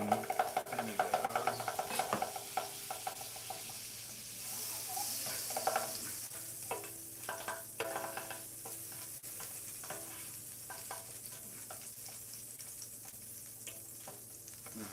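Butter melting in a hot pan gives a soft, continuous sizzle and crackle, close but fairly faint, with light stirring or scraping noises mixed in.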